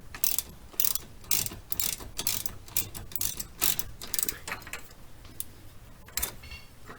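A ratchet wrench tightens a bolt on the upper rear control arm strap of a 1999–2004 Jeep Grand Cherokee, giving rapid, close clicking bursts in quick repeated strokes without speech.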